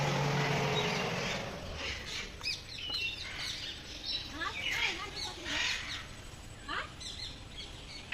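Birds, among them many parrots, call at a mini zoo with a busy mix of chirps, squawks and shrill cries at close to moderate distance, and people talk quietly underneath.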